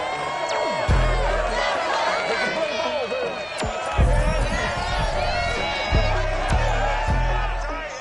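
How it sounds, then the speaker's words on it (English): Stadium crowd roaring and cheering before an American football game between the Chargers and Titans in the Madden Football video game, a steady dense wash of noise with a few sharp thuds, under commentator speech. "This crowd here fired up for football as a moment ago their Titans were introduced"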